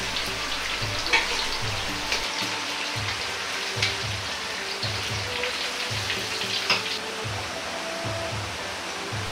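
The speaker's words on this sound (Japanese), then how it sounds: "大体3分から4分を目安に揚げていきます。" Snow peas deep-frying in a pot of oil, giving a steady close crackling sizzle with dense rain-like popping and a soft rhythmic low pulse throughout; no talking.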